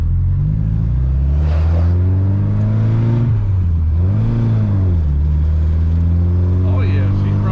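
A 1972 Ford Pinto Runabout engine, running after a new fuel tank and timing belt install, revs up and down in several swells with strong rising and falling harmonics, loud and close, while people talk over it.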